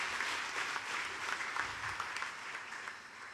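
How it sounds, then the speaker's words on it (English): Audience at a hospital anniversary celebration in Fiji giving a round of applause, a fairly quiet, steady patter of many hands clapping, with no voices heard. "A big round of applause for him"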